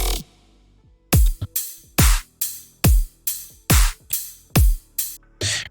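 Cymbal hits repeating in a steady loop, about ten strikes with one softer offbeat hit between louder ones, each ringing briefly before the next; no voices.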